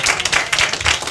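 Crowd at The Royal Oak show clapping, a brief burst of rhythmic hand claps, fairly close and steady.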